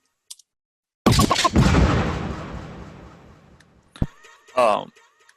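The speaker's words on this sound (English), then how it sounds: "And then a gunshot." A gunshot sound effect in an electronic music track: a single loud, sharp blast with a long decaying reverberant tail, followed by a short click and a brief scratch-like burst.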